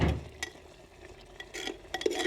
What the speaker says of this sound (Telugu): ఇలా ఉడికించుకుంటున్న పప్పు అడుగంటకుండా మనం ఇలా అప్పుడప్పుడు కలుపుతూ ఉండాలి, అడుగు మాడిపోకుండా.